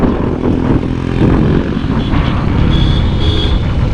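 A Kawasaki Ninja 300 motorcycle engine roars loud and close while the rider works through the gears, with a dense, continuous drone that swells slightly across a few seconds.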